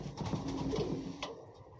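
A large, well-built pigeon coos nearby, with soft, rolling throaty calls repeating in quick succession before trailing off.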